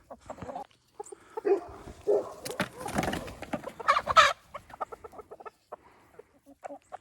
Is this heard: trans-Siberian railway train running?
no